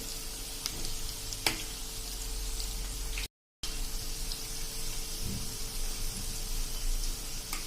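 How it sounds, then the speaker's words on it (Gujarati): Semolina bhajiya fry in hot oil over a medium flame, giving a steady, close crackling sizzle with faint pops and a few light clinks throughout. "આપણે ભજીયા તૈયાર થતા તેલમાં"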